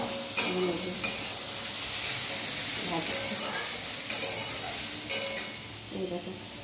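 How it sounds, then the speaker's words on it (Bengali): Small cut potato pieces fry in a pan for a Bengali chicken keema ghugni meal, a steady close sizzle broken by sharp clicks of a utensil stirring and scraping, with faint talk at times. "আলু ছোটো ছোটো করে কেটেছি, আমি ভাজছি।"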